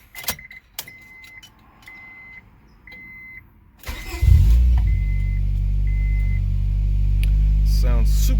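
On a fifth-generation Honda Prelude after a spark plug replacement, keys jingle and a dashboard chime beeps repeatedly, then the engine cranks and fires into a loud, steady, close idle that keeps running.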